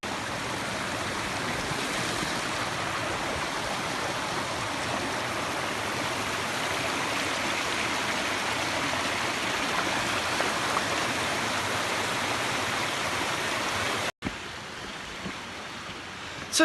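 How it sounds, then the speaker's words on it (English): Two streams meeting in a Scottish forest, a steady, full rush of flowing water heard up close and continuous, with a brief cut near the end. "Two streams coming together as one."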